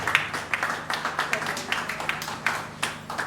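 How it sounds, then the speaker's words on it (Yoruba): An audience claps in a steady, rhythmic beat, each clap distinct and moderately loud, with a murmur of voices underneath. "Ẹ bá mi rún wọn ní àtẹ́wọ́ torí Ọlọ́run."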